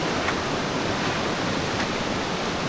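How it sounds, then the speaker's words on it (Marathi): Rushing water pours strongly toward a dam during village rain, a dense, loud, unbroken roar with no voices. "पाणी खूप जोरात आहे. हे सगळं पाणी जातो डॅम्पमध्ये."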